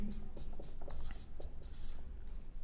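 Pen writing on paper while working a maths equation; soft, close scratching strokes in short bursts, faint and steady, with no clear speech.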